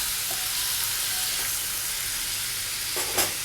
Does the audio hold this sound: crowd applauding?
no